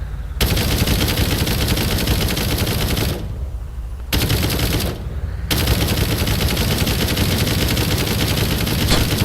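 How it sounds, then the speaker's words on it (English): An APC turret gun in the Brick Rigs video game fires rapidly at machine-gun rate, making loud continuous bursts broken by two brief pauses. "The gun fires as fast as it does. Which is at the same rate as a machine gun."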